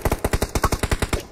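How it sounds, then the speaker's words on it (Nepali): Video game gunfire strikes a pan in a quick burst of about a dozen evenly spaced metallic shots, sharp and close, with no talk. "गोली हान्दाखेरि यो प्यानमा लाग्छ नि गोली"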